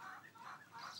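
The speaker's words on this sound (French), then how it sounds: "avec cette petite poule" A small hen on a farm clucks in a quick series of three soft, nasal notes, close but faint, with no talking.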